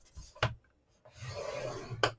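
Cardboard being scored along fold lines for a sweet treat box with a straw closure: two sharp ticks bracket a steady close scraping drag, with no talk.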